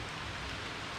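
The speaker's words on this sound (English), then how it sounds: "It's starting to rain, as it always does" Rain begins falling at an outdoor market in Medellin, Colombia, a brief, steady hiss of drops pattering on surfaces with no voices over it.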